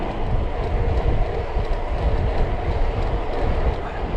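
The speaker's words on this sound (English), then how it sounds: "Train coming through on the level crossing at Wool." A train rumbles steadily through the level crossing at Wool, a loud, continuous low roar of rolling wagons with faint clacking and no talk.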